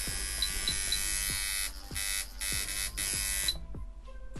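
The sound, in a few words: coil liner tattoo machine running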